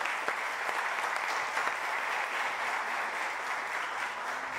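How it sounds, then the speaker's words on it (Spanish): An audience at a panel discussion gives the panelists a round of applause, even dense clapping from many people held at a steady moderate level throughout. "Yo les pediría un aplauso para nuestras panelistas."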